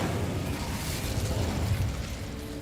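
Incendio fire spell blast in Hogwarts Legacy: a steady, loud, close roaring burst of fiery noise that holds for a couple of seconds, then tails off slightly.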